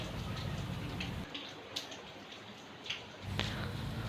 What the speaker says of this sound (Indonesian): Nyampe sini malah hujan gede ya.